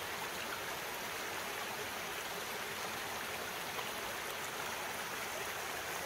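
A small stream flows past summer wetlands, a steady, soft, even rush of water with no breaks and no voices.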